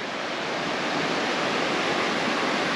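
A shallow brook flowing over rocks near a trout pool in the woods of Mt. Tabor, Vermont, gives a steady, full rush of water that stays even and close for the whole stretch, with no voices.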